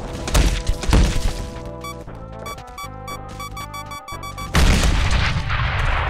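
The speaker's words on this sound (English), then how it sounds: "Someone else got a bomb as well." A bomb goes off in the Roblox Ragdoll Engine game with heavy booming thumps, then a tonal game stretch with shifting chimes before another loud, noisy blast swells and holds to the end.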